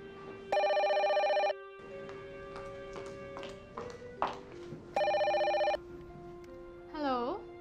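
Telephone bell ringing in two loud, distinct bursts about four seconds apart, with quieter clicks and handling noises between them and a brief tonal chirp at the end; no one speaks during the rings.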